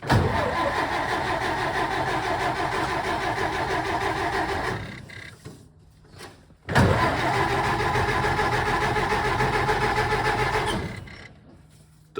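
A Ford Model A engine cranks on its starter without catching, a loud steady mechanical churning that runs about five seconds, drops out briefly, then resumes for another four seconds before fading.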